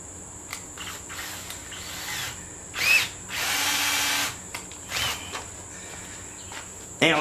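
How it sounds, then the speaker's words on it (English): A power drill whirs in several short bursts while spinning wire clamped in a vise to straighten it, with a longer steady run in the middle and a constant insect-like background drone. "I'm going to stick a drill in the end of it."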